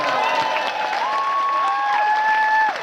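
An audience applauds and cheers after a squeeze-through stage trick, steady crowd clapping close and full throughout, with a sustained whistle-like tone sliding in pitch over the top.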